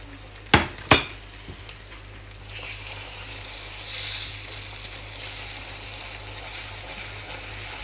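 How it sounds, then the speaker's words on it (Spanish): Eggs hit an oiled frying pan for scrambling: two sharp clinks of shell or utensil, then a soft, steady sizzle with faint stirring scrapes, close by and with no talk. "vamos a hacer lo que viene a ser un huevo revuelto"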